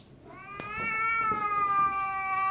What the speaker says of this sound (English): that cat talks a lot